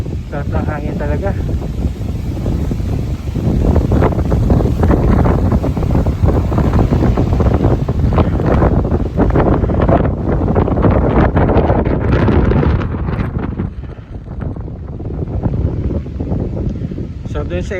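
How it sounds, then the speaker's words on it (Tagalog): Heavy wind roars across the microphone while driving on Maui near Lahaina, loud, continuous buffeting that eases near the end, with someone speaking under it. "Sarap ng hangin talaga."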